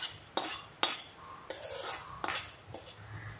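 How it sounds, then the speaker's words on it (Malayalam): A spoon stirs jackfruit erissery mixed with fried red-browned coconut in a pan, giving several sharp scraping clinks spaced about half a second apart and then a longer rasping stir, close and fairly loud with no talk. "ഇതെല്ലാം കൂടി നന്നായി നമുക്ക് മിക്സ് ചെയ്തെടുക്കാം"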